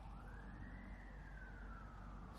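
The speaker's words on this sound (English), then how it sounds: "I hear an ambulance." A faint, distant ambulance siren wails, slowly rising and falling in pitch over a low background rumble.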